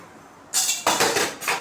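Mustard seeds crackle and pop in hot oil in a kadai on a gas stove, a loud bursting sizzle that starts suddenly and continues in uneven spurts.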